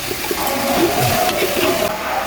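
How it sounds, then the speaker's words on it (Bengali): Water pours into a pot of browned country chicken for a rezala-style curry, giving a loud, close, gushing rush that lasts the whole short span. No one speaks. "মুরগি কষেছে, একটু পানি দিলাম ঝোল।"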